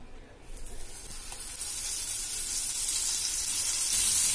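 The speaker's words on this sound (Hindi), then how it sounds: "अब सेम पैन में और 1 बड़ा चम्मच तेल डालेंगे, और बचे हुए बोमबिल भी हम सेम इसी तरह से आटा लगा के फ्राई करेंगे।" Flour-coated bombil fish frying in oil in a pan over medium to high flame, a close, steady sizzle that swells and grows louder after the fish goes in, with no voices.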